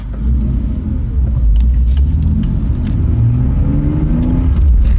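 A BMW E46 with a newly replaced clutch and solid flywheel pulls away and accelerates, its engine a loud, steady low rumble that climbs in pitch over about five seconds with no talking.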